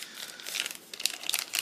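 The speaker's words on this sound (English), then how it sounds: "This one is in a sealed plastic bag." A sealed plastic bag holding a new MP5 magazine crinkles and crackles while it is being opened. The sound is close, with irregular bursts of bright rustling.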